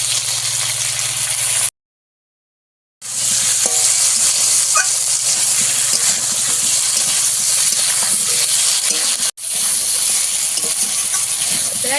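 Chopped tomato sautéing in a ground cumin paste base for a fish curry, a loud continuous sizzle with faint stirring scrapes, broken by a short silence near the start and a brief dropout later.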